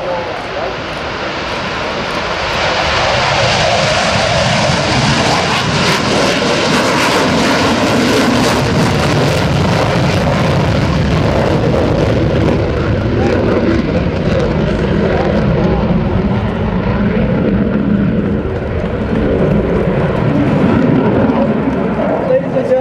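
An F/A-18F Super Hornet fighter jet roars loudly as its engines spool up for a go-around at an air show, a sustained powerful rush that swells and holds for many seconds, with voices faintly underneath.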